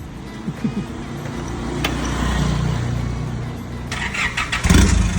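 An Isuzu pickup with a 2500 engine cranks and starts nearby, catching into a running rumble that rises briefly, with faint voices in the background.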